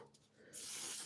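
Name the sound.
makeup setting spray being sprayed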